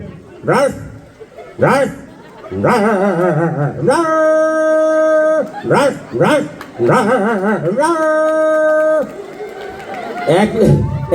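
A voice imitates a stray dog barking at a monkey, with a run of sharp yelping barks and drawn-out whining howls that are loud and close.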